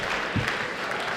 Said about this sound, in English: yes, definitely worth clapping, Jake